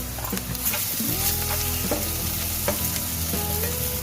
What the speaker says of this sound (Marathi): आता मी हळद घालते